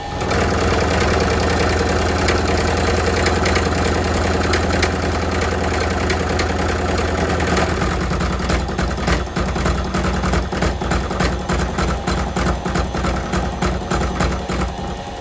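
Bandsaw driven by a treadmill motor on an MC-2100 controller with tach input, set near 600: a steady loud motor hum and whir running throughout, with a rhythmic pulsing texture emerging in the second half.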